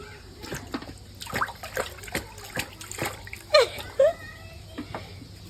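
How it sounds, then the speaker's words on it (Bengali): A small child washing pointed gourd vegetables in water, giving irregular splashes and dribbles close by, with a brief vocal sound partway through. "তুমি নানিকে পটল ধুয়ে দিচ্ছ, নানিকে সবজি কাটে দিচ্ছে, সবজি ধুয়ে দিচ্ছে।"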